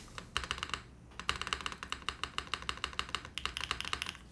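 Rapid typing on a Neo80 mechanical TKL keyboard after reseating parts, a steady run of crisp, close keystroke clicks with a brief pause near the start, heard alone without talk.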